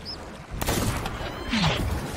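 Cannon fire during a naval battle in the video game Sea of Thieves: a sudden booming blast followed by rumbling, crackling impacts, loud and close, with no talking.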